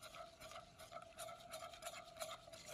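A whisk stirs chocolate in a bowl, making a quiet, steady rhythmic scraping and swishing with soft repeated strokes, faint and close, with no voices.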